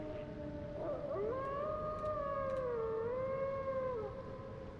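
Dog howling in the Elden Ring video game, a long wavering drawn-out howl with bending pitch, fairly loud and alone with no talk over it.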